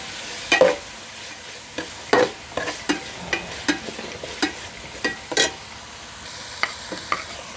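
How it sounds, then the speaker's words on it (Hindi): Chicken fried with ginger garlic paste sizzles steadily in a pan while a spoon scrapes and stirs in a series of sharp, irregular clatters, close and clear with no talking. "अब हम अदरक लहसुन का पेस्ट भी डालेंगे इसमें। इसको भी अब भूनेंगे साथ ही।"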